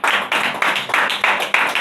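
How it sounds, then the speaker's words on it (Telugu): A church congregation claps loudly at a Telugu Christian service, a dense burst of applause that swells in about six rhythmic waves over two seconds, with no talk. "గట్టిగా చప్పట్లు కొడదామండి"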